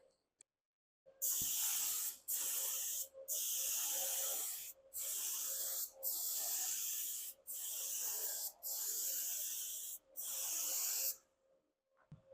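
A spray gun lays a heavy coat of paint on a 1983 Chevy Blazer hood, about ten long hissing bursts separated by short pauses, close and loud with no speech.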